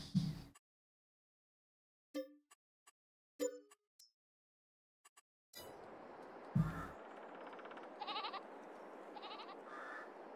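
Sheep on a farm in Farming Simulator 22 give several short, clear bleats amid silence, then one more bleat over a steady ambient background.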